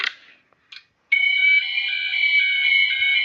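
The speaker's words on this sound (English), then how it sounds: "let's pull the fire alarm." An animated fire alarm at Sooty and Co goes off after being pulled, a couple of short clicks and then a loud, steady electronic ringing tone with a warbling pulse, close and alone.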